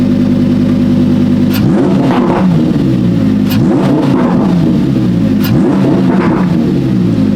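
A Lamborghini engine idles with a loud rumble, then revs hard three times, each rev ending in sharp crackling pops from the exhaust.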